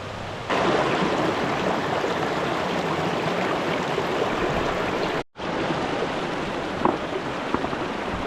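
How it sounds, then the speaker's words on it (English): A waterfall in a deep valley on a stormy backpacking route gives a steady rushing wash of water, moderately loud and unbroken apart from one brief dropout partway through, with no talking. "Got a waterfall."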